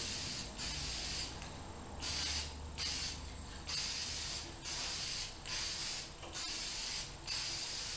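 Guide coat spray hisses from an aerosol can in short bursts of about a second each, eight or so passes with brief gaps, over a vintage car fender under restoration.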